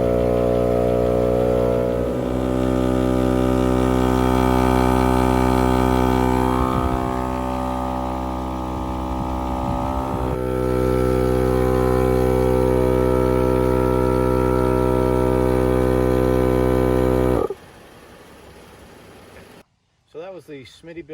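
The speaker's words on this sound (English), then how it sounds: "common air compressors as we air up a common 35-inch tire after a trail run" Smittybilt 2780 off-road air compressor inflating a 35-inch tire after a trail run, a steady loud mechanical hum with strong tonal drone that suddenly drops and then stops near the end, with a voice talking over it.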